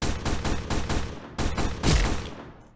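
M16 rifle firing in the Roblox video game, a loud burst of about six rapid shots followed by a heavier blast with a fading tail, no talk.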